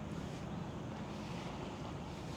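Steady wash of sea waves along the shore at a beachfront resort, continuous and fairly loud with wind noise buffeting the microphone and no voices.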